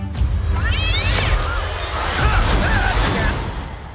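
A cat meows in a busy animated scene, with a few rising and falling cries heard over whooshing effects and background noise, moderately close.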